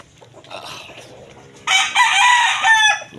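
A rooster crows loudly and close by on a chicken farm, drawn out, with hens clucking softly underneath and faint voices in the background.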